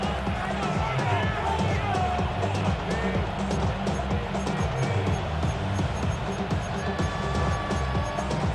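Stadium crowd in Madden NFL 26 roars in a steady, loud wash as a third down approaches, with a commentator speaking over the noise throughout.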